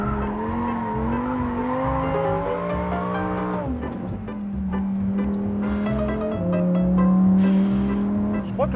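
A Lamborghini Huracán STO sports car drives fast, its engine holding a loud steady tone, then dipping and climbing again through gear changes, with faint tire noise under it.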